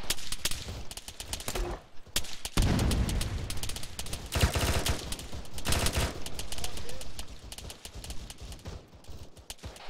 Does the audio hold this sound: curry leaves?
no